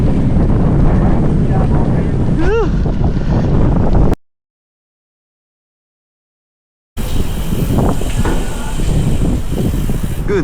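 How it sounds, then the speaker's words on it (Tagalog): Strong headwind on a long-distance bicycle ride from Manila to Aparri, loud roaring wind buffeting the microphone in two stretches separated by a few seconds of silence, with a brief voice in the first stretch. "Lakas ng hangin."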